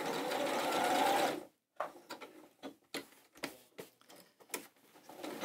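A sewing machine stitches a kimono quilt, a loud close whir for over a second, then stops and gives way to scattered light clicks and taps.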